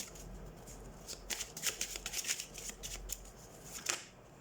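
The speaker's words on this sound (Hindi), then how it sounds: "तो सबसे पहले हम कार्ड शफल कर लेते हैं।" Tarot cards being shuffled by hand, a quiet, close series of rapid riffling and flicking bursts with no talking.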